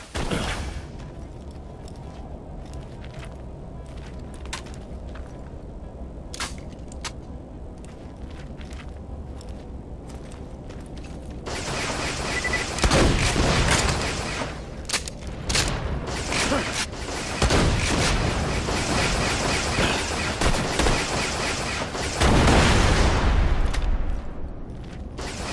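Turrets in the video game Borderlands: The Pre-Sequel open fire in dense bursts of booming shots about halfway through. Scattered clanks come first, and rapid volleys follow, loud and close.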